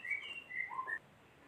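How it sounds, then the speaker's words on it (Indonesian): A female magpie robin gives a few short, clear chirps and whistled notes in quick succession, fairly faint and close, then falls quiet. "ini murai saya yang betina"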